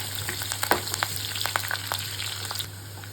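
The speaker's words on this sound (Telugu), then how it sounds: "మూడు లాంగాలు కొద్ది దాల్చిన చెక్క రెండు ఇలాచీలు వేసి అవి వేగిన తర్వాత కొన్ని ఉల్లిపాయలు వేయించుకోవాలి" Onions fry in oil with cloves, cinnamon and cardamom, giving a steady close sizzle with scattered crackles and pops, and no voices.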